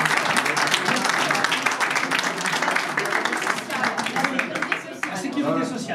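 Outdoor crowd at a charity run/walk awards ceremony in a Dijon park applauds with dense, sustained clapping, individual claps crisp and close, tapering slightly near the end.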